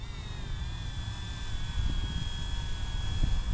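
An RTRHobby C186 MAX RC helicopter hovers close by outdoors on a breezy day, its high, steady electric whine holding a constant pitch over low wind rumble.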